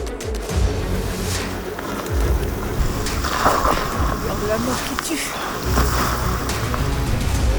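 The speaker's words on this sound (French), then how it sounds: "Il y a une tempête, un vent, c'est de la folie." A violent windstorm roars during a Marco Polo sheep hunt in the Kyrgyzstan mountains, a loud, continuous rushing bluster with gusts surging throughout, while a person speaks over it.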